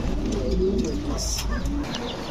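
A female Spanish pouter pigeon coos in short soft murmurs, close by, over a low background of voices and a rumbling hum.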